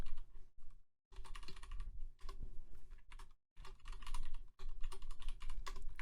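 Object names typed on a computer keyboard, close and busy key clatter in several fast bursts separated by brief pauses, with no voices.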